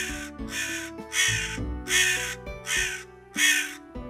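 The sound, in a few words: crows cawing and quarreling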